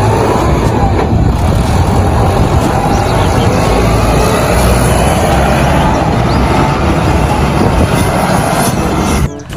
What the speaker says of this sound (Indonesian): ini truk molen, teman